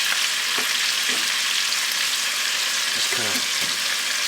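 Diced onions sauté in a hot pan alongside browned chicken for a soup, giving a steady close sizzle throughout while a voice speaks briefly over it.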